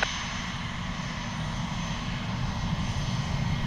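A jet aircraft takes off at Cleveland Hopkins airport, a steady loud engine roar holding without letup, heard from a distance with no talk.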